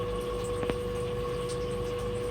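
Water pump running steadily in a solar-powered aquaponics greenhouse system feeding plants, a constant hum with a tonal whine and faint trickling water, one brief click partway through.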